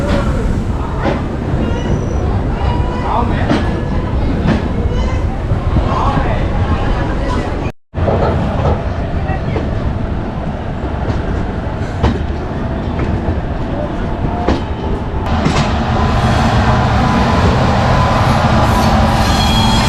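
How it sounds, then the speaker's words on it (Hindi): An express train pulls out of Gaya station on its run from Anand Vihar Terminal toward Sealdah, a loud, steady rumble of wheels on rails with rhythmic clatter that continues unbroken close by. "तो चलिए आपको मैं दिखाता हूँ इस ट्रेन का गया से डिपार्चर।"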